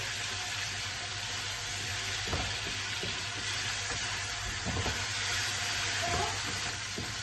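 Chicken pieces frying with light brown onions in a pan give a steady, close hiss of oil, broken now and then by small clatters of a spoon or utensil.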